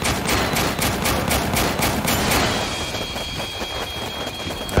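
A turret in the video game Warpips fires continuously in a dense rapid stream of shots, loud and close, with no pauses.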